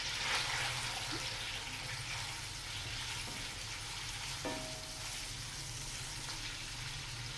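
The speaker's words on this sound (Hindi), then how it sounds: "1 कप ऑयल के अंदर हमने इसको डाल देना है। प्याज हमने ब्राउन करने हैं।" Chopped onions fry in a cup of oil until brown, a steady soft sizzle and crackle running evenly throughout with no talking.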